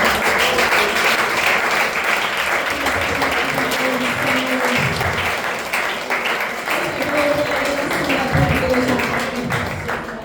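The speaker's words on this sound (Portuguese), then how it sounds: "Você possa aplaudir o Espírito Santo agora." A church congregation applauds during a Portuguese-language celebration service, sustained loud clapping from many people filling the room, with faint low tones and occasional voices underneath.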